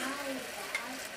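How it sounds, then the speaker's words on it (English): Corn kernels tumble into melted butter in a pan, giving a steady close sizzle with light stirring scrapes and one small clink, no talk over it. "my butter is melted, so I'm gonna go ahead and add my corn."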